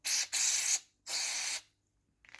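Three bursts of aerosol cleaner sprayed into the threaded holes of a Mopar cylinder head, two close together and a longer one after a short gap, loud and hissing, followed by a faint clatter.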